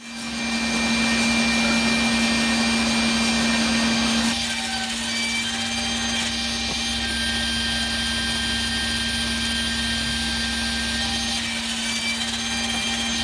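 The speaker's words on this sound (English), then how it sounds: "I cut them down to final height using my cross-cut sled on the table saw." Table saw cutting wooden legs to final height on a cross-cut sled in a workshop, a loud steady whine of the blade under load for about four seconds, then the motor spinning down and running on at a lower, quieter level.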